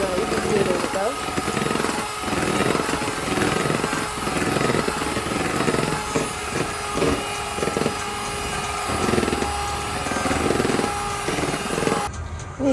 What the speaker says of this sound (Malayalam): ഇനി ഒന്നുകൂടി നന്നായി മിക്സ് ചെയ്ത് കൊടുക്കാം.